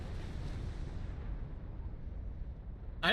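Deep, sustained rumbling blasts fill the clip in the video game Star Trek Online, a continuous low boom like distant explosions, with a sharper burst cutting in right at the end.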